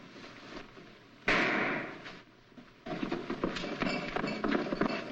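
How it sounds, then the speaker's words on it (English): A single sharp gunshot cracks out in a 1946 Boston Blackie crime film, sudden and loud against a quiet room, followed by rustling movement and scuffing noise. "What was that shot?"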